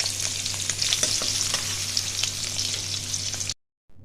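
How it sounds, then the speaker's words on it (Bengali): Duck eggs fry in a hot pan with a continuous close, crackling sizzle and bursts of spattering, cutting abruptly to silence near the end. "ডিমগুলো এবার আমার ভাজা হয়ে গেছে"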